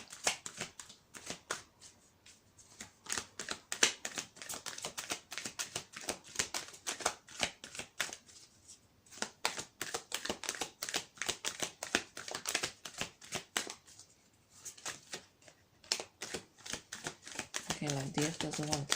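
Tarot cards shuffled and riffled by hand, a dense run of quick papery flicks and snaps that pauses briefly a few times, close and fairly soft, with a voice speaking over parts of it.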